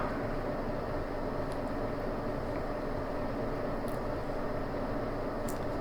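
ÖBB 1063 locomotive running on the Tirol Brenner–Kufstein route in Train Simulator, a steady, moderately quiet rumble of wheels and rolling stock with broad noise throughout and a few faint clicks near the end.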